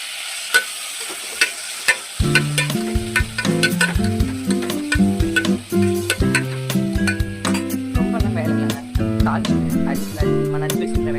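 Chopped onions and tomatoes hitting hot tempered oil for a quick tiffin sambar, a loud close sizzle that swells after an opening clatter and keeps frying steadily with stirring scrapes and background music.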